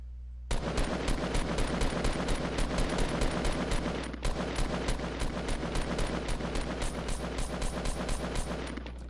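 Sustained rapid automatic gunfire in the Fortnite video game, a dense, loud, evenly spaced burst of shots that runs almost without a break for about nine seconds.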